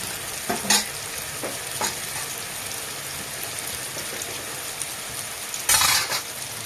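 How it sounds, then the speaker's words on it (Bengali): Fried fish pieces go into a sizzling curry pan and are stirred, a steady frying hiss broken by a few sharp scrapes and clatters, one louder burst near the end. "এখন ভাজা মাছ দিয়ে দিচ্ছি"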